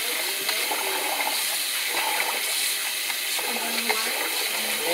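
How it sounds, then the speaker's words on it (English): Rice being washed in cold water in a pot, with a steady swishing, trickling water sound and occasional small splashes and clinks, close and continuous. "rice is clean, and I strain it off and wash it again"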